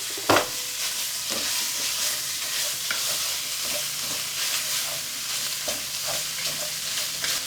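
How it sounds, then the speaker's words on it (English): Pork sausage browns in a frying pan in a Cajun home kitchen, giving a steady, close sizzle throughout with occasional stirring clinks and scrapes. "I'm gonna cook this sausage. We're gonna get it all good and brown."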